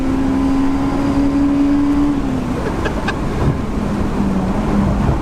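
A Honda S2000 engine pulls hard toward 9,000 RPM with the roof down, a loud sustained drone with a rising tone that drops back as the car keeps driving; no one speaks.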